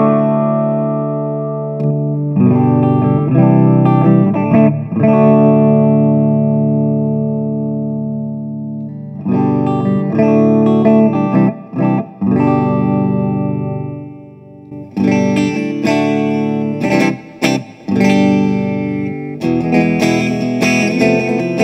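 An electric guitar runs through a Boss AC-3 acoustic simulator pedal in standard mode with reverb on, playing strummed chords and picked passages, loud and close, with short pauses between phrases.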